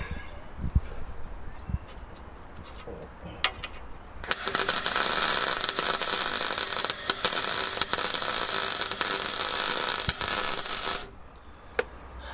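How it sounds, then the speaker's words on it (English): A welder lays a weld bead with a loud, continuous crackle and sizzle that starts abruptly partway through and runs for several seconds before cutting off, with scattered clicks and handling noise before and after. "Quite a nice bit of weld, actually."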